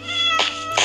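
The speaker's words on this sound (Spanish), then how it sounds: "se alcanzan a escuchar. Están los gatos." Two short cat meows from Minecraft, one after the other, sounding close and clear over a steady game background hum.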